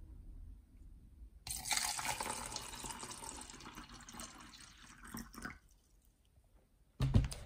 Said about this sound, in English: I'm going to pour water from the TDS cup to the pH cup